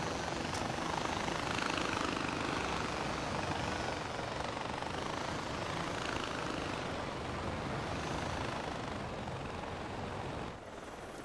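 A helicopter in a video game gives a loud, continuous rotor and engine roar that holds steady throughout, dropping slightly near the end, with no speech over it.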